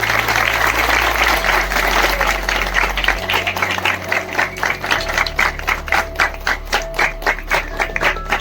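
A village gathering applauds a welcome ceremony with dense, close clapping that settles into a rhythmic, evenly timed beat toward the end.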